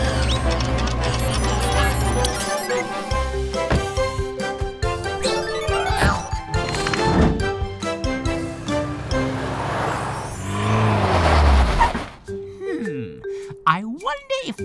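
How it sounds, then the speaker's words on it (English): A cartoon tow truck drives off amid bright music and chiming sound effects, with a revving whoosh near the end. Voices from the animated show are mixed in. "Go, go, Tilly Tow Truck."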